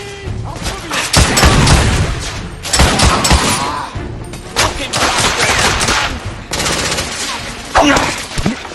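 Gunfire in a shootout in The Order: 1886 comes as loud bursts of rapid automatic fire and heavy shots in several clusters with brief lulls between them, with voices talking at times.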